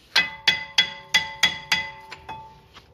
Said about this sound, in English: we just gonna hit it with a hammer